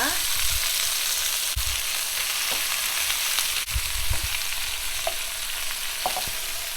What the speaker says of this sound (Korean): 새우를 이제 볶을 거예요